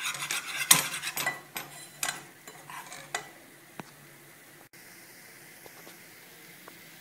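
A utensil scrapes and clinks against a pan while a flour-butter mixture is stirred and dried out, sharp metallic taps and scrapes fading to sparse strokes over a faint hiss; no talk.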